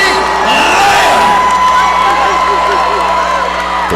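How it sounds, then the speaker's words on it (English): A crowd at an amateur MMA event cheers and whoops loudly for a fighter's introduction, a sustained roar with shrill whistles and shouts running through it. "The crowd going wild for the action"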